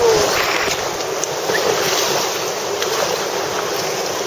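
A paddler strokes forward through open water, heard as steady splashing and wash blended with wind noise on the microphone, continuous and fairly loud.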